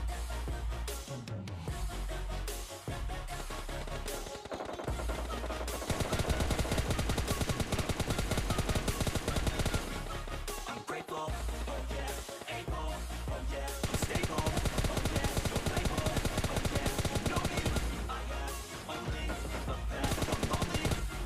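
Sustained automatic gunfire from PUBG Lite, a solo-versus-squad battle royale, rattles in long dense sprays and repeated bursts with brief pauses between them, loud and close.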